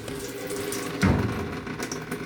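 Tap water runs from a faucet in an abandoned teardown mansion, a steady hissing flow that surges louder partway through, with no talking.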